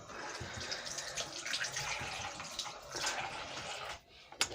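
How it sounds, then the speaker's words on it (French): Hands rinsed under a running tap during a makeup session, a soft, continuous splash of water with small shifts in flow, fairly quiet and close, ending with a brief drip and a clunk. "Je vais juste me rincer les mains."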